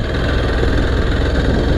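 A TVS XPulse 200 dual-sport motorcycle with an air-cooled engine idles close by, a steady, loud, low throbbing rumble with no voices over it.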